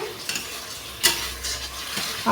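Schezwan coconut momo gravy with coconut milk stirred and bubbling in a pan, giving a steady soft sizzle with a few louder scraping strokes of a spoon and no voices.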